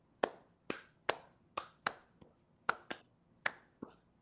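A person claps their hands over a livestream, trying to keep time with someone else: about nine sharp, close claps spaced roughly half a second apart, crisp and dry with no talking.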